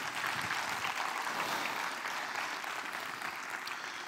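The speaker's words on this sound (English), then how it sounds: "Let's give the Lord a big hand clap." Congregation clapping hands during a church service, a steady even wash of applause at moderate distance, filling the whole moment without talk.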